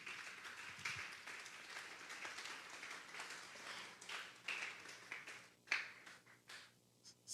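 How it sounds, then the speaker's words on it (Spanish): A church congregation at a Sunday service gives faint, scattered applause, with uneven clapping and a few sharper individual claps as it tapers off. "Denle un fuerte aplauso pues al Señor."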